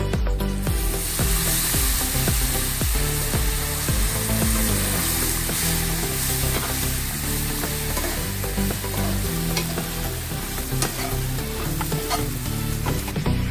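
Bread bhaji sizzling loudly in a pan after a sprinkle of water, a dense continuous crackle with frequent stirring scrapes throughout, close and without speech.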